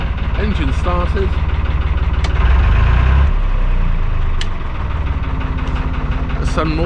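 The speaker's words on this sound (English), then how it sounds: "Engine started." A narrowboat engine idles steadily just after starting, a loud, close diesel rumble that swells briefly partway through and then settles, with someone talking over it.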